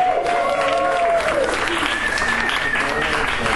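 An audience at a youth human rights gala claps in a steady round of applause, loud and close, with a voice heard briefly over the clapping.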